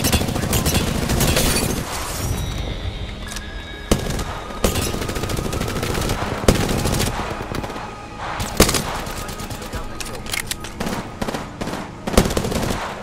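Gunfire in Apex Legends, loud rapid machine-gun bursts and single sharp shots with occasional booms and shattering impacts, close and dense throughout.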